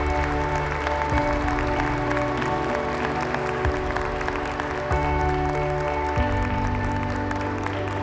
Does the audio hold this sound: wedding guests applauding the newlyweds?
yes